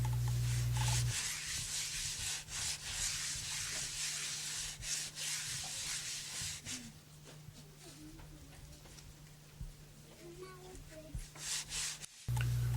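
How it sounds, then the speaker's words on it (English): A clay jar in African pottery making is rubbed smooth with a necklace of strung baobab seeds, giving a continuous dry scraping and rasping with uneven strokes, close up, under a low background hum. "rubs the entire jar smooth with a necklace of strung baobab seeds"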